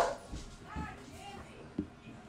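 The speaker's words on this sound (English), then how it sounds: "Yeah, those are dogs." Dogs indoors barking a few times, faint and somewhat distant, with scattered short yips across a couple of seconds.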